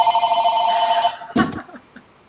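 A telephone bell rings loudly and steadily for about a second, cut off abruptly by a short clatter as the handset is picked up, then quiet.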